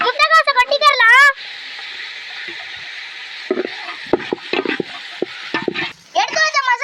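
Shredded cabbage tipped into a hot pan and stir-fried for chicken fried rice, giving a steady close sizzle with scraping and tapping from the stirring, while a voice talks briefly before and after.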